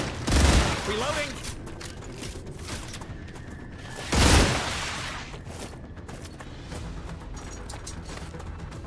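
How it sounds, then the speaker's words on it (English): A weapon reload plays in the StarRupture base-building game: two loud mechanical clacks a few seconds apart over a steady game hum, with a voice speaking briefly. "Reloading."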